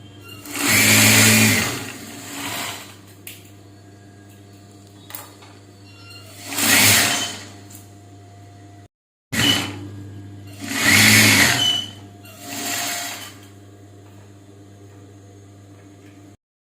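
A tailoring sewing machine stitches blouse fabric in short loud bursts of rapid whirring, four or five runs separated by quiet pauses while the cloth is adjusted.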